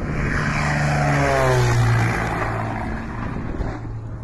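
An Embraer EMB-202A crop-duster airplane flies low while spraying a field. Its propeller engine drones loudly, swelling as it passes close overhead and then dropping in pitch as it fades away.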